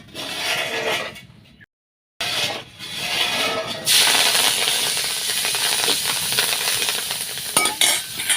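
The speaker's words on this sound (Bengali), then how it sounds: "সেঞ্চি শাকগুলো ভাজি করছি" Freshly picked senchi greens sizzle and hiss in a pan over a village cooking fire while a utensil stirs and scrapes them, loud and close, with a brief pause before the frying surges again.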